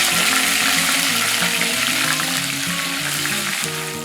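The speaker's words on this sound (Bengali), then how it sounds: "কালো সর্ষে, জিরে ও কারি পাতাটা দিয়ে দিচ্ছি। 8-10 সেকেন্ড ফ্রাই করে নিতে হবে।" Black mustard seeds, cumin and curry leaves frying in hot oil for masala dosa filling, a dense, steady close-up sizzle and crackle that holds for the whole stretch, with soft music running underneath.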